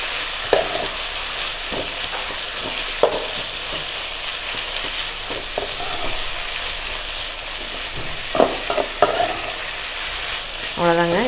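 Mint leaves sauté over a medium flame in a pan for chutney, giving a continuous close sizzle with occasional scraping stirs and clinks of the spatula, and no talking.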